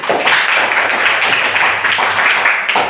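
A school class claps hands together on the teacher's cue, a steady close burst of many claps filling the room with little talk.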